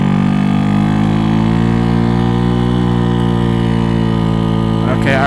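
A Venom X18 motorcycle engine with 1.5k clutch springs runs at a steady, loud, close drone with a constant buzzing tone, holding even revs throughout with no talking over it.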